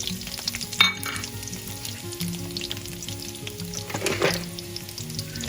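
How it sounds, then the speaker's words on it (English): Onions hit hot oil for a home-style mutter paneer: a close, continuous crackling sizzle with a few sharper spits and stirring scrapes, swelling briefly near the start and again toward the end. "So the oil is hot now, and to this I'm going to add onions that we have cut previously."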